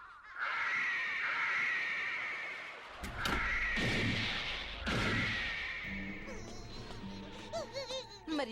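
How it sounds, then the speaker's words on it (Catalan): Crows caw repeatedly in a loud, harsh chorus, several overlapping calls in bursts, with other bird cries joining toward the end in an animated outdoor scene. "has vist que cada cop hi ha més ocells?"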